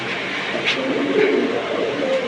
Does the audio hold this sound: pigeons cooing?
yes